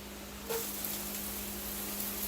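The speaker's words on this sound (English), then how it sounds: "You hear that sizzle?" A steady, bright sizzling hiss of vegetables frying in a hot non-stick skillet, starting with a brief clatter and continuing evenly.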